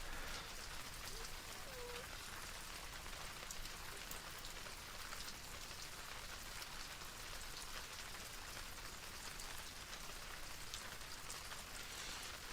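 Steady rain falling on a windy beach, a dense even hiss of drops and gusts holding constant throughout, moderately loud with no voices.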